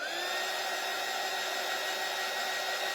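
A hair dryer blows steadily on a wet wooden door hanger sign, a constant close whirring hum with a high whine, unchanging and alone for the whole stretch.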